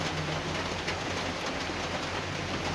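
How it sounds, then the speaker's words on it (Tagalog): Heavy rain pouring steadily and loud, a dense unbroken wash of sound with a low rumble underneath, building in strength. "Habang tumatagal mga kaibigan, lalong lumalakas yung ulan."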